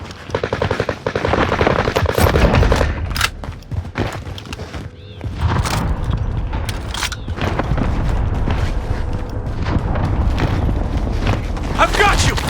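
Rapid automatic gunfire and heavy shots in the Call of Duty Warzone battle royale on Rebirth Island, loud bursts repeating throughout with brief gaps, mixed with game effects and voices calling out over it.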